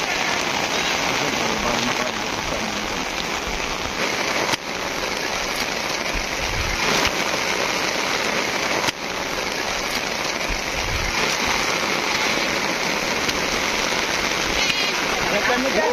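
Heavy rain pours steadily, a dense, loud hiss of drops hitting surfaces that runs unbroken throughout, with faint voices now and then underneath.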